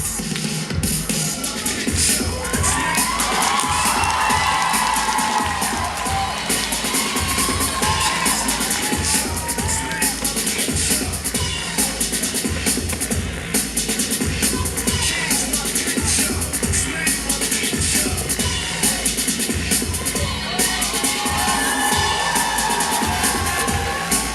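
An audience at a city talent show final cheers, shouts and claps loudly and continuously, a dense roar of crowd noise with children's voices rising in it for the whole stretch.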